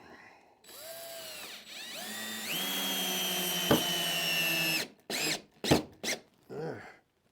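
A power drill drives large screws at an angle into wood in a woodworking shop, with a steady whirring run that rises in pitch, a sharp clunk, and then several short bursts of the motor.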